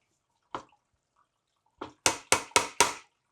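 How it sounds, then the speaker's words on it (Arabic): A single soft splash, a pause, then a quick series of four sharp pours or splashes of soaked long-grain rice into boiling water, close and fairly loud, with no talking. "وبس غلت المي مثل ما حكينا، انا عندي كاسه رز طويل ناقعهم وغاسلهم كثير منيح، راح سقطهم فوق"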